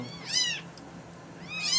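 A rescued kitten gives two clear, high meows about a second apart, close by and fairly loud, with a soft low hum in the background.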